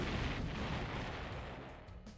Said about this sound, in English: EMP missile launcher